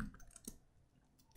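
Computer keyboard typing a command to update Node.js and npm: a few sparse, faint key clicks in a quiet room, with a sharper pair of taps at the end.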